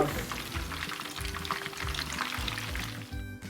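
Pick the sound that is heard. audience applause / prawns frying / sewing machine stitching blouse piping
prawns frying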